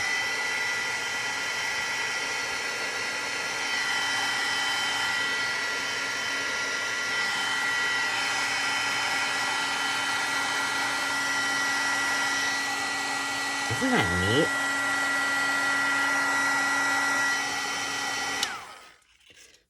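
A heat tool drying a craft project blows with a steady, loud whirring hum for nearly twenty seconds before cutting off abruptly, with a woman's brief remark partway through.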